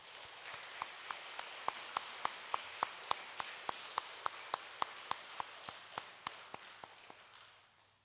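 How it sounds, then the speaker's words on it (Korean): A church congregation applauds in welcome, heard as a fairly faint, steady, evenly paced series of sharp claps, close to one clap per beat, fading slightly toward the end with no talk. "모든 성도님들 환영하는 마음으로 우리 박수로 맞이하도록 하겠습니다"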